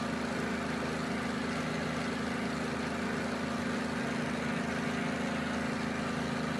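The Curtiss P-40 Warhawk's engine runs in Microsoft Flight Simulator, a steady, dense, unbroken drone with a low throbbing hum that stays even and constant throughout, with no talking.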